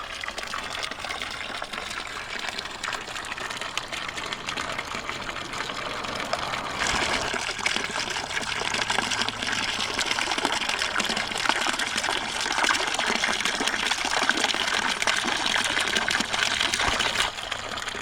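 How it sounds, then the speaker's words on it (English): Water gushing from a public water fountain dating to 1763 in Fountain Park, Schaefferstown, Pennsylvania, spilling into a replacement trough: a continuous, moderately loud splashing rush heard alone throughout. "Here's the actual fountain then."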